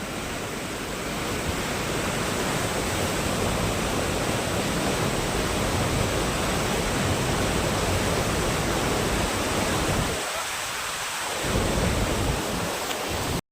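Floodwater rushes steadily through a swollen rural canal, a loud, dense broadband roar that continues unbroken, with a brief dip in the low rumble near the end.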